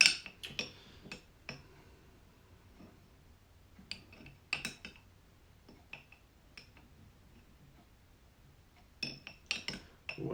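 A metal spoon clinks and scrapes inside a glass jar of Luxardo cherries, sharp intermittent chinks in small clusters separated by quiet pauses, close and without speech.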